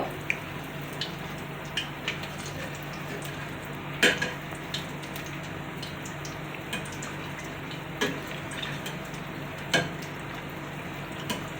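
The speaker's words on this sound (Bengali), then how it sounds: "এখন আমি একদম লো হিটে এগুলো আস্তে আস্তে ভেজে নিব" Soft, continuous bubbling and sizzling of samosas deep-frying in oil over low heat, with occasional light clinks of utensils against the pan.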